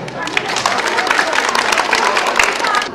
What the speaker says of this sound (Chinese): 所以讲我用热烈的掌声